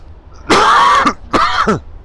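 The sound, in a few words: coughing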